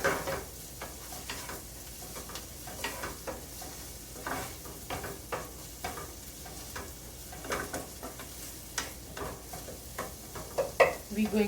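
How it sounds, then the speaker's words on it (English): Ginger and garlic fry in a pan with a soft, steady sizzle, while a utensil scrapes and stirs in repeated irregular strokes that stand out close and clear above the hiss. "We just have to cook our ginger and garlic, finish their rawness"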